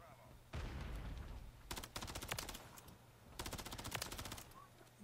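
Short bursts of SMG fire in Call of Duty: Modern Warfare III, two clusters of rapid, loud shots separated by a pause over steady game ambience, with a voice talking under the action.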